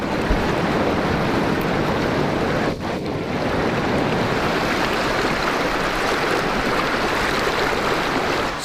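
A mountain river in the Chechen mountains rushing steadily, a loud, dense broadband roar of flowing water close by with some wind buffeting, no talking.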